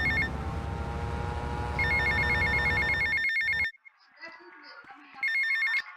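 An electronic phone ringtone from the video game GTA Vice City trilling in repeated bursts over a low droning background, cutting off briefly before ringing again.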